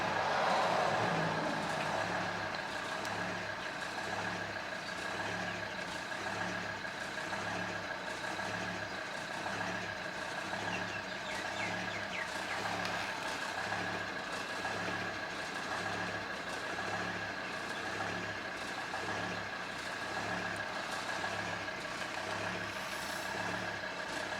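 A Volvo XC90 D5 diesel engine idling with a rough, regularly pulsing drone that rises and falls about every second, steady and close for the whole stretch with no talking.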